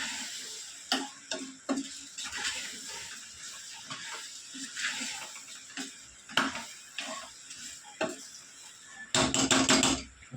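Food fries in a pan with salt added, a soft crackling sizzle broken by irregular utensil taps and scrapes against the pan, ending in a louder burst of sizzling.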